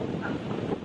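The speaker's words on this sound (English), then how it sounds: "it's probably windy" Wind buffets a handheld microphone outdoors in Puerto Rico near sunset, a steady broadband rumble lasting under a second with no voices over it.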